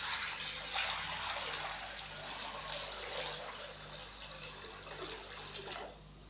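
Water pours steadily into a karahi cooking pot, a continuous splashing rush that holds at an even level for about six seconds before tapering off.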